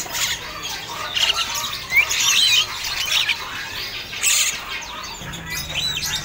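Caged birds at the Pramuka bird market chirp and call in short, bright bursts, fairly close, amid a busy market hum with no clear talk.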